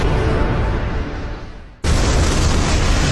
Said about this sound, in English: is an explosion!